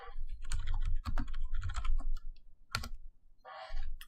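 Keys clatter on a computer keyboard in quick irregular bursts, a close run of clicks with short pauses, then a final rapid flurry.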